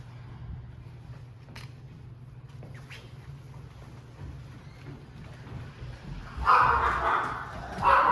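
A dog barks a few times in the distance over a low steady hum, with a louder burst of noise near the end.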